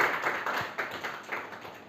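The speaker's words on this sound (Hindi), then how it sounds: "जोरदार ताली बजाइए भाई नितेश जी के लिए" Applause for Nitesh in a classroom test session, a modest scattered round of hand claps with irregular rhythm, fairly close and moderately loud, no talk over it.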